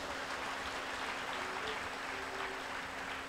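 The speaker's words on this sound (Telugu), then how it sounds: "గట్టిగా చప్పట్లు కొట్టండి." A church congregation at a live anointing worship service claps steadily in a broad, sustained wash of applause, heard somewhat distant and even throughout.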